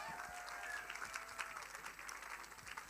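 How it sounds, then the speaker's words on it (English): Audience applause at a theatre awards ceremony, a faint, steady wash of clapping with a thin tonal hum underneath. "Round of applause, please, again, for Tandeka and Kayleen."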